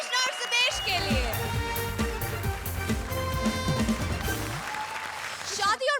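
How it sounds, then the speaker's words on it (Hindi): Enthusiastic studio audience applause at a comedy show, loud sustained clapping mixed with cheers and music, swelling and fading over a few seconds. "जोरदार तालियां"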